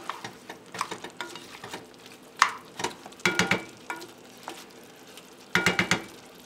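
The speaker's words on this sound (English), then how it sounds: "Just to saute the onions and get that flavor infused." Onions sauteing in a pot for pork and sausage chili, a soft background sizzle broken by bursts of spoon stirring and scraping against the pot.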